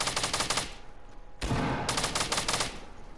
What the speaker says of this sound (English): Let me see if this blue pistol works.